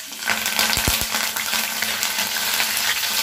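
Cumin seeds and curry leaves hit hot oil for a masaledar baingan, crackling and sizzling loudly and steadily up close, with a couple of dull knocks early on.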